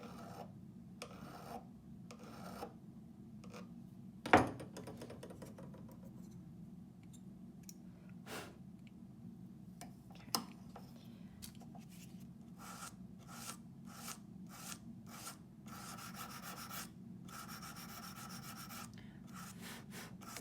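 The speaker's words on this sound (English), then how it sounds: "I'm gonna file just a smidge bit more" A hand file rasping across a rivet head to shorten it, in a series of quiet, regular back-and-forth strokes, each short and distinct, with a few sharp clicks in between.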